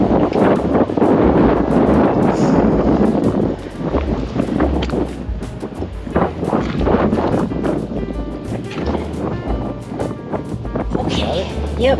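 Strong wind buffets the microphone on a beach pier at Fort De Soto, a steady low roar that dips briefly midway, with brief voices in the background.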